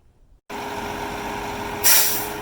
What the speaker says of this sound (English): the concrete pumper truck just got here